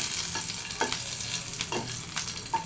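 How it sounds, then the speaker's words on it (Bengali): Black cumin seeds and green chilies sizzle in hot oil as a greens dish is started, a steady hiss of frying with soft stirring scrapes and small pops close by. "তেলের মধ্যে কালো জিরে কাঁচামরিচ ফোড়ন দিছি"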